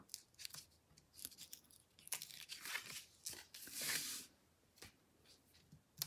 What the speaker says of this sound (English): Pull off my tape.